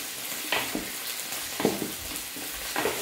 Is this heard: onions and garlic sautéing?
yes